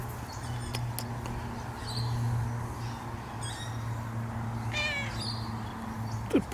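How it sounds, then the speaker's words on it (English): A neighbour's cat roaming an abandoned site gives a couple of short, fairly faint meows over a steady low hum. "we come across another snoopy little neighbour's kitty cat who does come up and say hi"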